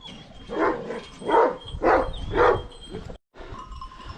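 A dog lets out four evenly spaced barks, close and fairly loud, with softer whimpering noises between them and after, against a quiet background.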